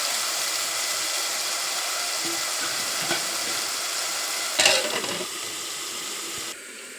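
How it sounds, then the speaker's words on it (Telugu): Onion and tomato curry sizzles steadily in a pan, a continuous close hiss with a brief louder spatter near the middle, then the frying quietens slightly at the end. "టమాటా చూసారా కొంచెం కలర్ మారింది ఇంకో కొద్దిసేపు మనం వేగనిద్దాం"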